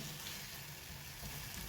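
Chicken sizzles and crackles softly in a hot pan, a faint, steady frying hiss with no talking.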